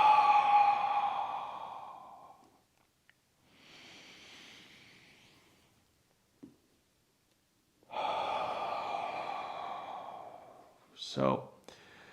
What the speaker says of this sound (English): exhale like you're fogging up a mirror